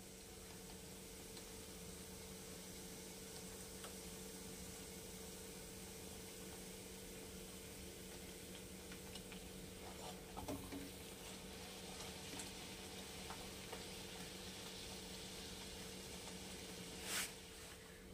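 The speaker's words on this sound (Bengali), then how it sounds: "দুই পিঠ এরকম লাল করে ভাজা হয়ে গেলে" Radhaballavi dough frying in oil until reddened on both sides, a steady, quiet sizzle that runs unbroken with no talking.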